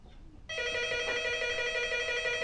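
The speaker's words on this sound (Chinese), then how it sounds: "你接下电话" A telephone rings inside a home, its loud, continuous electronic trill of stacked bright tones starting abruptly after a half-second of quiet room hiss and carrying on steadily to the end, with no voices.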